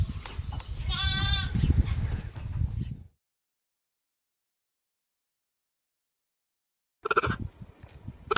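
A sheep lets out one loud, wavering bleat close by amid rustling, followed by a few seconds of total silence before a brief burst of shuffling noise returns.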